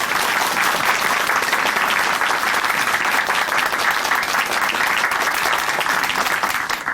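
A studio audience at a Korean Christian testimony broadcast applauds warmly, a dense, steady wash of clapping that holds evenly for several seconds without voices.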